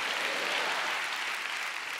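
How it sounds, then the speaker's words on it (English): A church congregation claps steadily in a large worship hall, a dense, continuous wash of many hands at fairly even loudness throughout with no pauses. "Give the Lord a big clap"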